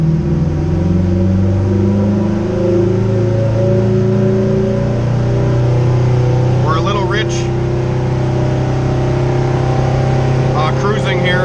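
Turbocharged Acura RSX pulling away from a dead stop on a dyno, its engine note droning and gradually rising in a long, loud, steady acceleration, with brief chirpy whistles near the end.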